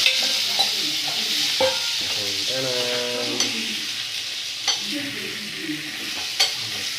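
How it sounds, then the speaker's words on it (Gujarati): Vegetable tempering with potatoes sizzles loudly in a pan, a constant frying hiss with occasional stirring clinks and a brief voice partway through. "શાકનો વઘાર થઈ ગયો છે મસ્ત ટકાટક એની અંદર બટેટા"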